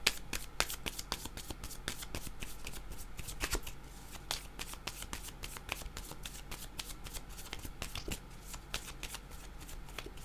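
Cards are shuffled over and over for a card reading, a rapid sequence of crisp riffling flutters and taps close up, with no voices.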